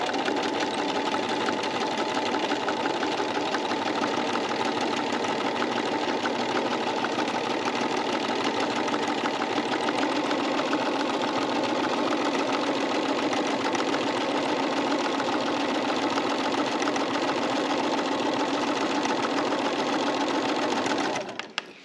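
A sewing machine stitches figure-eight quilting curves in a steady, continuous whir, the needle chattering evenly and close without pause, then stopping abruptly at the end.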